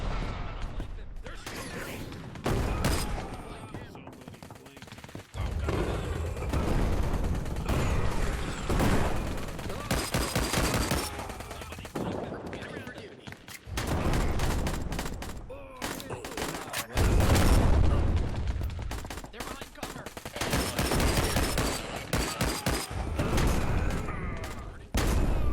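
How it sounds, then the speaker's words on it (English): Explosions and gunfire in the VR game Plastic Battlegrounds: dense bursts of shots and blasts crack in irregular clusters with short gaps, loud and chaotic, with mechanical clatter and occasional voices mixed in. "all those explosions and all the destruction going on"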